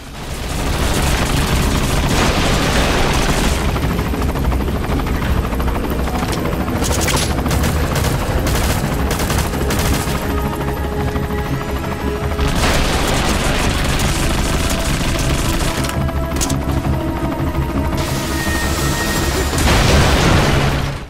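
Enemy helicopter and heavy gunfire in the Metal Gear Solid V video game, sustained loud bursts of automatic fire and booms over a droning rotor, continuous throughout.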